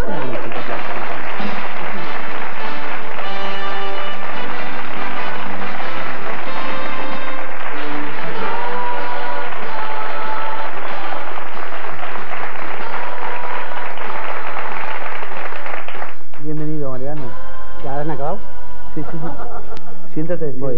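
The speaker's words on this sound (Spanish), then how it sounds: "Vamos a darle un fuerte aplauso a Mariano" Studio audience applause for a guest named Mariano on a Spanish television comedy show, sustained clapping blended with music and laughter, then talk and a musical sting over it.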